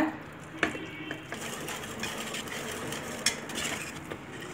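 A spoon stirs jaggery syrup with rice and lentils in a pot over a low flame for sweet pongal, giving irregular scraping and knocking sounds with a few sharper clinks, close and moderately loud.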